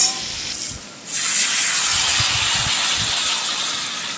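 Spices frying in a pan with salt and turmeric powder for a lentil fritter gravy make a steady, bright hiss. The hiss dips briefly near the start, and low scraping taps from stirring run underneath.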